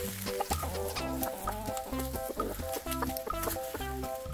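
Green-egg-laying Araucana-type hens in a backyard weekend coop cluck and chatter in overlapping, rhythmic bursts that fill the whole stretch, steady and fairly close.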